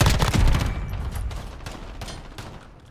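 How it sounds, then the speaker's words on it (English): Rapid gunfire from the Modern Warfare video game on a small multiplayer map, a dense burst of overlapping shots that is loudest early on and then keeps going at a lower level. "Yo, who the heck is shooting right now?"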